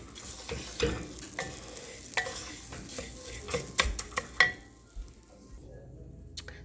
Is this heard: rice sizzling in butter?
yes